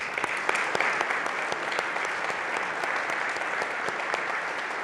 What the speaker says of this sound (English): please join me in a round of applause for the color guard from Fort Hays High School